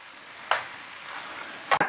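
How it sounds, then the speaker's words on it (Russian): Lard and carrots fry over medium heat in a covered pan, giving a steady soft sizzle broken by two brief, sharper bursts of spattering or stirring, heard close with no talk. "все жарится у меня на среднем огне под крышечкой"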